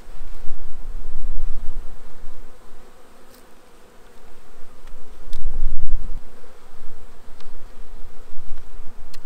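Steady honeybee buzzing from a weak hive with few bees, a dense low drone that swells and fades, close by with no voices.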